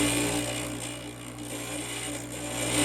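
Glass grinder gently grinding a porcelain piece for jewelry, a steady whirring motor hum with a continuous gritty rubbing sound, close and even throughout.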